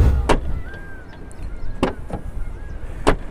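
The door of a Tata Nexon car is shut three times, each a short, solid thud spaced about a second and a half apart, close by against a quiet background.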